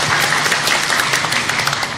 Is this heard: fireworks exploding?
no